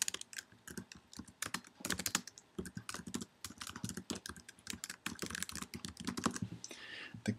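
Rapid, uneven clicking of keys on a computer keyboard, close and fairly quiet, with short bursts and pauses over several seconds and no voices.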